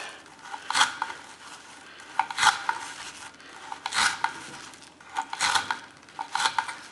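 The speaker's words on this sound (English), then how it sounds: "It's pretty impressive the way that flat ground Delica cuts fruit." A flat-ground Spyderco Delica stainless steel folding knife slices through fruit in four or five separate strokes, each a short, close, crisp rasping cut with quieter pauses between and no voices.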